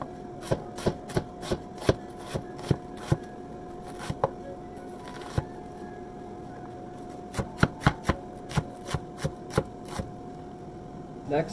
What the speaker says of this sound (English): then I'm gonna chop the red onion